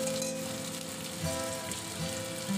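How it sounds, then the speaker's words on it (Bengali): Onions and tomatoes frying in a pan give a steady, close, dense sizzle that crackles without pause, with no voices. "ওই পেঁয়াজগুলোকে ভেজে নিচ্ছি ভালো করে"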